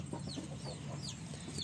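Free-range country hens cluck softly in a farm coop, a few brief, faint calls over a low steady background hum.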